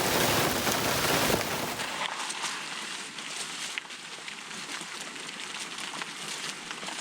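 Rain falls steadily during a mountain hike, a dense broadband hiss that is heavier for the first two seconds, then settles into a softer continuous patter with scattered drops for the rest.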